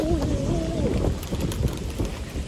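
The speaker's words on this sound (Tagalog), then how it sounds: "Lumalakas ang hangin." Strong wind at a summer beach buffets the microphone with a constant rough roar, while a voice talks briefly at the start.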